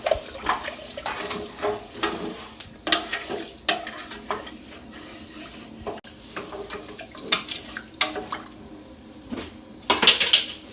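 Ghee rice is stirred in a pan with ghee, with repeated scraping and clinking strokes over a faint sizzle, irregular and close, with no talking.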